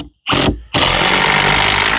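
A power drill drives screws into a homemade archery target board: two short bursts of loud whirring, the second running on steadily with a grinding buzz, separated by brief pauses, no talk.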